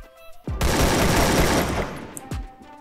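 Automatic gunfire in the Free Fire battle game bursts out in a sustained loud volley for about a second and a half, then a single sharp shot follows, close and without talk.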